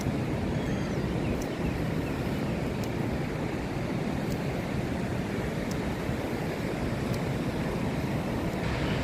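Sea surf at the pine-tree beach park of Suan Son Pradiphat in Hua Hin, Thailand, a steady broadband wash of waves with wind buffeting the microphone, continuous and fairly loud with no talk.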